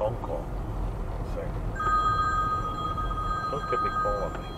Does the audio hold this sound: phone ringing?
yes